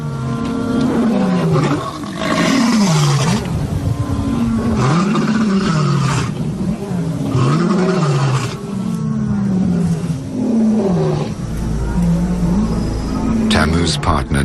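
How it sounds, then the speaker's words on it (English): Lions roar in the evening, a male and female announcing their presence with repeated deep, heaving grunting roars in long rhythmic bouts, loud and close, while a narrator speaks over them. "The roars of lions disrupt the intimacy of the pair."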